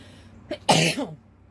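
One sharp sneeze close by, a short intake of breath followed by a loud explosive burst, alone against a quiet room.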